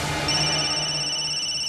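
A mobile phone ringtone plays as a steady electronic tone, sustained and moderately loud indoors, with no talking over it.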